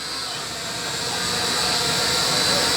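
A small toy drone whines steadily as it climbs higher, its buzzing rotor hum growing gradually louder through the clip and heard alone.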